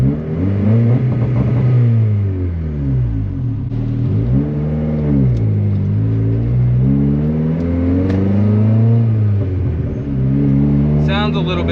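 A turbocharged Honda Civic engine with an anti-lag two-step revs loudly and steadily for about twelve seconds, its pitch rising and falling in rough waves with crackling near the end.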